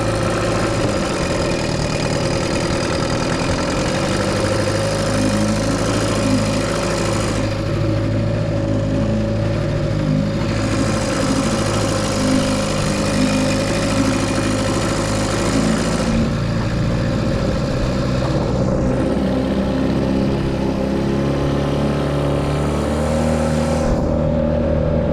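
A 14 ft boat's outboard motor runs steadily in gear after shifting, a loud continuous engine drone held at low, even revs throughout with no voices over it.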